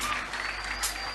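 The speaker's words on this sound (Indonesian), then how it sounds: "kita serius tepuk tangan semua untuk Mbak Suci" Audience applause for Mbak Suci at a wayang santri show, a steady dense patter of many hands clapping at moderate distance, carrying on evenly for the whole short stretch without speech over it.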